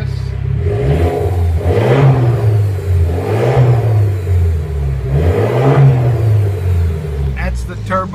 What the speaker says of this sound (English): That's the turbo spooling up.